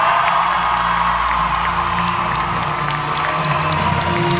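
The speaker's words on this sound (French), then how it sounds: "Sous applaudissements" Audience applause and cheering at the French premiere of Tim Burton's Dumbo (2019), a steady, dense roar of clapping with whoops from a large crowd, sustained throughout.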